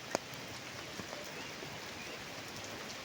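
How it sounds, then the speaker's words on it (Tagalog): Rain falls steadily on a rainy day, heard as a faint, even hiss with a few soft drops standing out. "Naulan ngayon."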